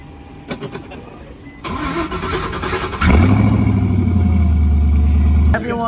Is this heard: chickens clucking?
no